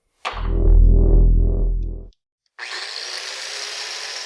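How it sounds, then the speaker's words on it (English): A Hitachi G12SR3 angle grinder revs up with a loud, close motor whine that holds for under two seconds, then cuts off. After a short silence comes a steady broadband grinding hiss, with no talking. "This grinder fits very well in my hands, and I feel very little vibration from it."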